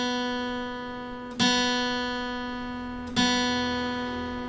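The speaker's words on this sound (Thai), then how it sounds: "สาย2เสียง B ครับผม" A guitar's second string tuned to B, struck twice as an open note with a couple of seconds between plucks, each ringing clearly and slowly fading with no voices.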